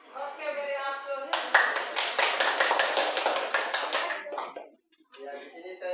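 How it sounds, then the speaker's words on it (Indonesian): Applause from a class audience, a burst of hand clapping lasting about three seconds, loud and close, between stretches of talking before and after. "Oke, beri aplaus."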